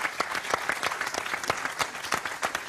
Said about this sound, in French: Rémi, que je vous demande d'applaudir.